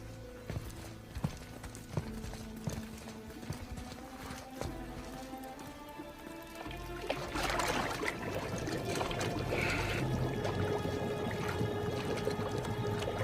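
Water churns and splashes as a head is held under the surface in the God of War game, a steady liquid wash that swells louder and fuller in the second half over a low rumble.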